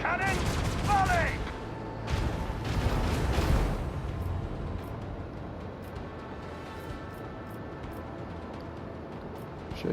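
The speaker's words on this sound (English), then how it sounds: "Macro cannon, volley!" Macro cannon volley in the video game Warhammer 40000: Rogue Trader, a dense burst of heavy booming shots over a couple of seconds that fades into a lingering low rumble, with a spoken voice at the start.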